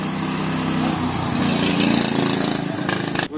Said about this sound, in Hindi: अभी ये शायद 160 सीसी है और ये बोट वाला इंजन है होंडा का